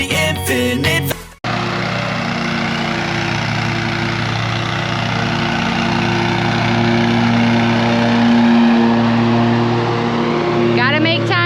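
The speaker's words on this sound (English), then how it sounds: "Gotta make time to mow our own grass." Lawn mower cutting a lawn of browning grass: a loud, steady engine drone that starts abruptly after a brief burst of music and holds its pitch, swelling slightly midway, running alone without talk.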